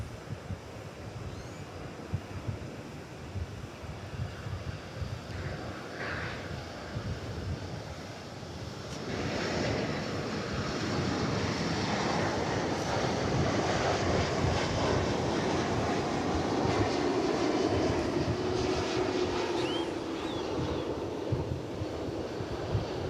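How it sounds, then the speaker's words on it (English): An American Airlines Boeing 787 Dreamliner heavy jet arrives at Dallas/Fort Worth airport, its engine roar building steadily from a distance into a broad, loud rumble, with wind buffeting the microphone. "Another heavy jet coming in here. It is American Flight 1980 from Los Angeles. This one's a Dreamliner"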